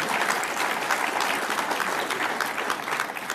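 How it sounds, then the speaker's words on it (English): Continuous audience applause during a political speech, a thick, even wash of many hands clapping close by for the whole stretch without pause. "gave me a round of applause there"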